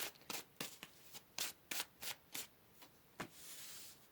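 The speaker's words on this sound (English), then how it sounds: "And then we will shuffle out your oracle messages as well." Oracle cards being shuffled during a Fae-themed pick-a-card tarot reading: a run of crisp, papery riffling bursts in an uneven rhythm, close and fairly quiet, ending in a longer soft shuffle.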